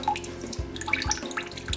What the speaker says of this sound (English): once the water starts to come, you catch the water, because this is good coconut water